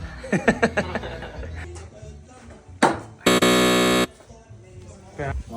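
A BMW E60 battery discharge warning buzzer gives one loud, steady tonal buzz lasting under a second, set among laughter and voices with shorter sounds before and after.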